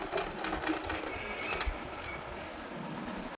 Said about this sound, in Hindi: यहाँ पे हमने आराम आराम से सिलाई लगानी है बिल्कुल किनारे किनारे पे फैब्रिक के